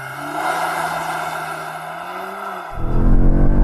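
Audi S3 launching from a standstill, a loud, close engine note climbing steadily in pitch under hard acceleration before an abrupt gear change, then a fresh surge of rising engine roar.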